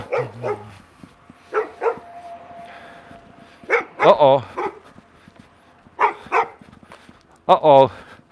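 A medium-sized dog of about 35 pounds barks outside at night in short clustered bursts spread across the clip, fairly close, with a person talking between and around the barks.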